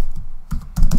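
Computer keyboard typing code, three short clustered bursts of loud close key clicks within a second.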